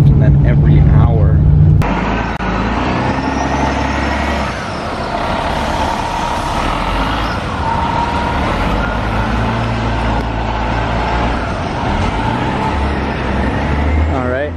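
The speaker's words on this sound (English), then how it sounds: "Pretty miserable bus ride." Interior of a crowded bus heading to upstate New York, with a steady low engine drone and road rumble and a sharp hiss near the start, continuous throughout.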